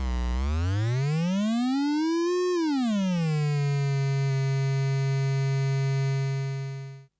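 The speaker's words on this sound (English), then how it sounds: "as you can hear and as you can see, the Turing machine output tracks with the control voltage." Turing Machine Eurorack module in a Doepfer modular synth patched as a VCO, a buzzy harmonic tone that glides up, bends back down and settles into a steady sustained pitch, loud and alone before cutting off.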